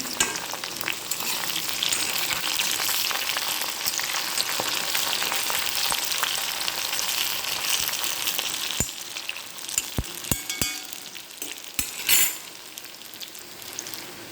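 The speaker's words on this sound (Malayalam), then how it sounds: "നമുക്ക് കുറച്ച് കറിവേപ്പില ഇട്ട് കൊടുക്കാം." Curry leaves crackle and sizzle in hot oil while a jackfruit-seed snack is fried, a steady loud frying hiss with sharp pops growing sparser toward the end, no talking.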